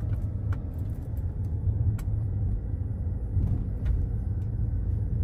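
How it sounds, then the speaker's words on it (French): A street sweeper truck works along the road in a quiet residential neighborhood of Skokie, Illinois, producing a steady, loud low engine rumble with faint brushing noise that continues throughout, with no voices. "Il y a un camion qui vient balayer la route."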